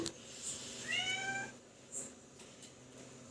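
A hungry cat meows in a few short calls around the one-second mark, fairly close but soft, with quiet room sounds and faint chirps around it.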